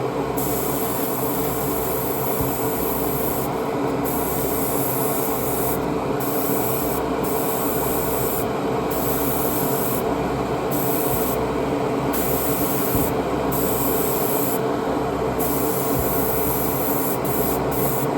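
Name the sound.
spray painting model car parts semi-gloss black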